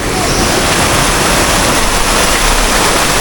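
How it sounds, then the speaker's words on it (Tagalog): Waterfall at a farm in San Jorge, Samar, pouring as a steady, loud broadband roar of rushing water that fills the whole clip without pause. "Wow, sweet. Waterfalls."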